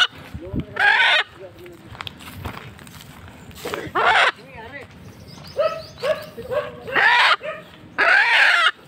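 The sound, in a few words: chicken clucking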